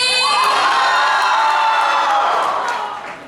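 A large crowd cheers and whoops loudly at once, the roar sustained before fading toward the end.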